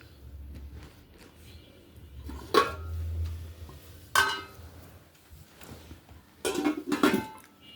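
Frying pans clatter and knock a few times at close range, with soft clinks and a low background hum between the handling sounds.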